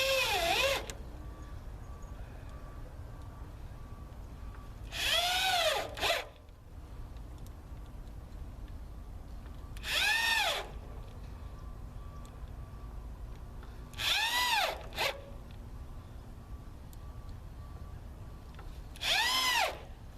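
A power drill drives screws into bathroom rafters in five short whirring bursts about five seconds apart, each rising and falling in pitch, with a faint steady hum between them.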